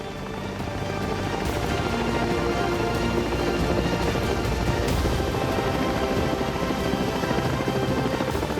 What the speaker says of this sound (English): everyone in the valley can hear the helicopter.